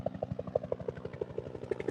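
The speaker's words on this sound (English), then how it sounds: "this is that small helicopter that was the first one over" A small firefighting helicopter carrying a plastic water tank flies overhead, its rotor giving a steady rapid thumping pulse at moderate distance with a low engine drone beneath.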